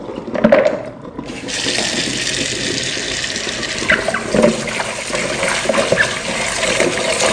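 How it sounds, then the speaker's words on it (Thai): Tap water runs steadily into a sink while white turmeric (krachai) rhizomes are rinsed, a close, continuous rushing splash with brief handling knocks and sloshes. "หลังจากนั้นเราก็มาล้างน้ำเปล่าอีกสักหนึ่งรอบนะครับ"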